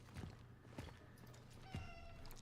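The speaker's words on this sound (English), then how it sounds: "I heard a kitty." A cat meows a few times in the video game Cronos: The New Dawn, short soft mews over a low steady ambient hum, faint and somewhat distant.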